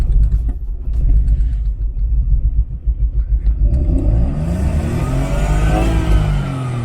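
A BMW E34 sedan's engine cranks and catches, then settles into a steady rumble before the revs climb in a rising whine, heard up close with no talking.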